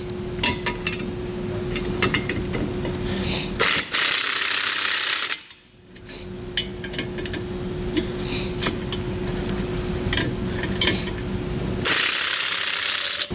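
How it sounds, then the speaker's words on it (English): Ratchet wrench with a 15/16 socket tightening a bolt on a 5th wheel underbed kit bracket against a truck cross member, repeated metallic clicking strokes in bursts separated by brief pauses, close and fairly loud. "We'll use a 15/16 socket and wrench to tighten that down."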